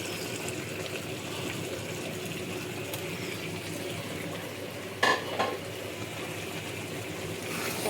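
Kochur loti (taro stolons) cooking in a pan with whole garlic and dried fish, giving a steady low sizzle and stirring, with a brief utensil clatter midway.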